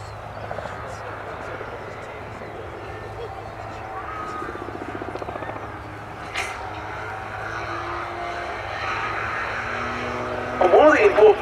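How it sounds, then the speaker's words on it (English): A Rotorsport UK Calidus gyroplane flying at the Duxford summer airshow, a steady distant rotor and engine drone sustained throughout, growing slightly louder toward the end. "Things to also consider as you watch the AutoGyro going through its paces"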